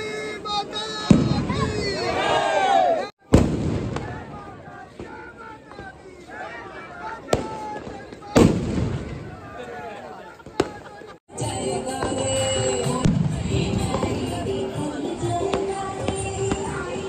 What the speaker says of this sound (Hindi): देख सकते हैं दोस्तों दूर जहां पटाखा फूट रहा है